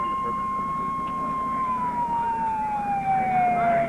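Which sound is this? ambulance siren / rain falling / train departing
ambulance siren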